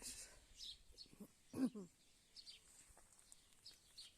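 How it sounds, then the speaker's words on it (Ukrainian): House sparrows chirping in the morning in a rural Ukrainian yard with flowers and grapevines: scattered high chirps and tweets, faint and somewhat distant, with a short louder burst near the middle. "І горобці зранку як почнуть співати. Ох, уже й свірінчать."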